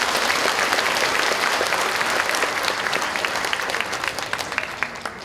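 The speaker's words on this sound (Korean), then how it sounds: "다시 한번 큰 응원의 박수 부탁드리겠습니다" Audience applause fills a community talk concert with a county governor in Uljin, Korea: dense, steady clapping from a large crowd that runs unbroken throughout and eases slightly toward the end.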